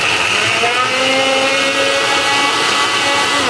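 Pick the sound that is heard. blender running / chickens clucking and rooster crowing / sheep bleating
blender running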